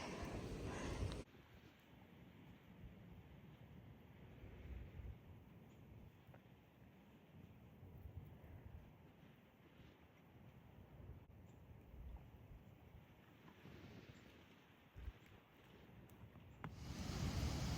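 Steady gusting wind rumbles and buffets outdoors, low and continuous, with no voices.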